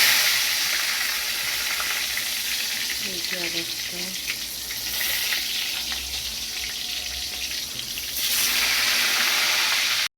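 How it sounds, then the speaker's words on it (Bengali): Sliced eggplant (brinjal) frying in hot oil gives a steady, close sizzle throughout, with a brief spoken remark partway and a louder burst of hiss near the end. "বেগুন ভাজা"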